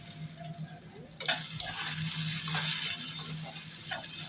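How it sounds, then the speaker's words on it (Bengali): Potatoes and boiled taro stolons fry in a pan, a steady sizzle with occasional scraping stirs of a spoon, close and fairly quiet. "সমস্ত কিছু এবার নাড়াচাড়া করে নিচ্ছি।"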